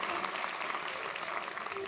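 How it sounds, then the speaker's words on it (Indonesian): Applause from a studio audience at a comedy segment, a moderate burst of scattered clapping that holds steadily across the moment, with faint voices mixed underneath. "Telat tepuk tangannya."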